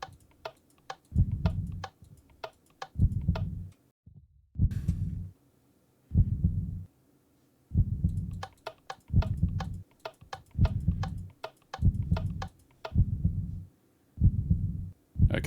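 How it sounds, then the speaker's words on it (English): A Minecraft Decked Out 2 dungeon heartbeat thuds in regular paired beats, each low thump trailed by clicking ticks, with a short break early on before the steady rhythm resumes and the beats come closer together. "that should increase the heartbeat when it gets round"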